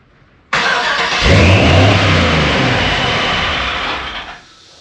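A 4-seater rock crawler buggy engine fires up abruptly, catches and revs hard, holding a loud, rough mid-pitched roar for several seconds before dropping off.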